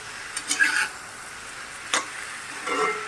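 Meat frying in a pan is stirred and mixed, with a few distinct scraping strokes over a quiet sizzle, close and moderately loud.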